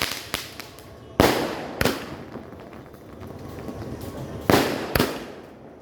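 Firecrackers bursting during Diwali celebrations in Bankura, West Bengal: a series of sharp, loud bangs, some single and some in quick pairs, with short crackling tails and a noisy outdoor background.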